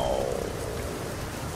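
Rain in the trucking game American Truck Simulator makes a loud, dense, steady wash of noise, with a brief faint tone at the start and no talking.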